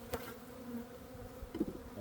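Honeybees buzzing around an opened hive at an apiary during a spring check of frames with pollen patties, a low steady drone with a few louder passes near the end, fairly faint and with no voices.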